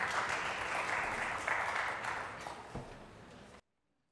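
Indoor audience applause at a Paris climate agency event, a steady dense clatter of clapping that fades out toward the end before silence.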